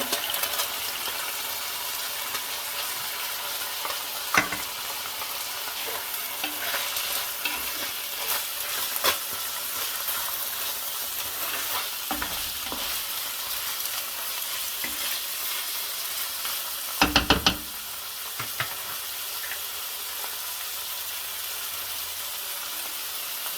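Chopped onion in a pan of browned tofu frying on high heat, giving a loud steady sizzle with occasional stirring scrapes and a brief burst of clatter, no voices.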